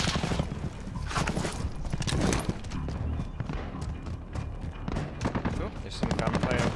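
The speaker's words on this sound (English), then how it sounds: "there's some gunplay over here" Video game gunfire crackles in dense, repeated volleys, mixed with battle noise and game voice lines, loud and continuous throughout.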